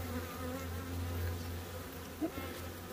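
Wild Africanized killer bees in Cochise County hum in a steady, faint drone, a continuous low buzzing swarm with no talk.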